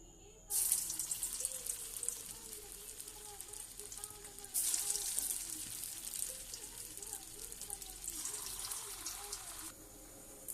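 Potato pakoras fry in hot oil in a wok, the sizzle surging loudly three times as fresh pieces drop in, then settling into a steady crackle between additions.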